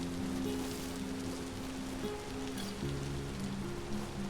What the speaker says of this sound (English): Getting a little bit of sleet. A wintry mix,